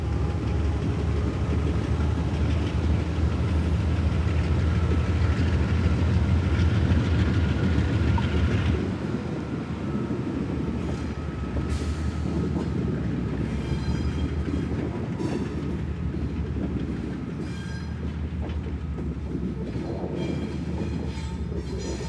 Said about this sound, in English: The tank car was then hauled forward out of the siding.